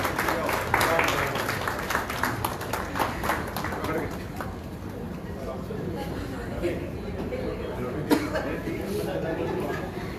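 An audience applauding at a Rotary club installation ceremony, steady clapping that runs throughout the clip, fairly loud and slightly distant, mixed with talking and a few coughs.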